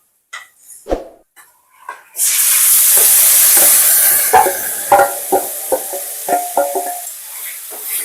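Marinated chicken hitting hot oil with fried onions in a home kitchen pot for chicken biryani, bursting into a loud steady sizzle after a few clinks, then crackling on with occasional stirring knocks and scrapes.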